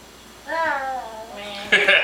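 A voice imitates a cat with a single drawn-out, rising-and-falling meow, close and clear, followed by a brief breathy noise at the end.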